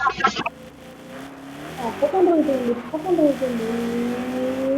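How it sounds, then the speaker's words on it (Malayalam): Tyre squeal from a car skidding in the Car Parking Multiplayer mobile game: gliding, wavering screeches with engine drone beneath. They come after a short burst at the start and run steadily until the end. "അപ്പൊ എന്റെ വണ്ടി സ്കിഡിങ് ആണല്ലോ എന്നിട്ട് ഞാൻ കൺട്രോൾ ചെയ്യാനുണ്ടല്ലോ"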